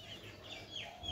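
Chickens cluck softly and steadily over a continuous low background hum, apparently sick birds drooping on a small poultry farm.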